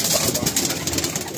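Tournament pigeons in a dusty loft, soft low cooing against a dense, steady background hiss throughout.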